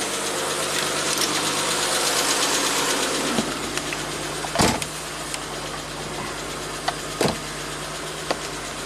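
A 1967 Triumph GT6 engine running with raised RPMs, a steady mechanical drone broken by a few sharp clicks and knocks, close and fairly loud with no speech.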